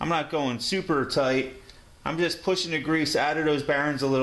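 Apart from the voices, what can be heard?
No everyday noise stands out behind the speech.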